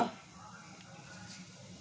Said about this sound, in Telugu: ఆయిల్ వేడైన తర్వాత ఇందులో కొంచెం జీలకర్ర